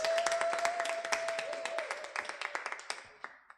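Scattered audience clapping in a press and public engagement event hall, a burst of hand claps that thins out toward sparse individual claps, with a sustained tone running underneath.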